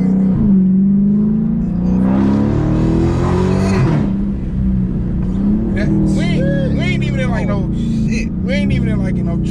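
A Dodge SRT 392 with Hellcat suspension, driven in street mode, revs its engine. The drone climbs in pitch over the first few seconds, then keeps a steady, loud cabin rumble while people talk over it.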